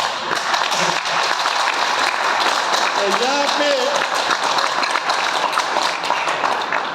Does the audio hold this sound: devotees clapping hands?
yes